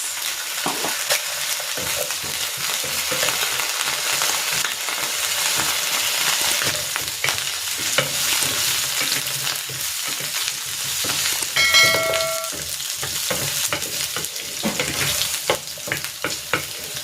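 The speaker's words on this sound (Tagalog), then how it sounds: "Maglalagay ako ng cooking oil. Isa lang ko muna dito itong patatas at carrots." Potatoes and carrots frying in cooking oil in a heated pan give a loud, continuous close sizzle, with stirring and a few light metallic clinks toward the end.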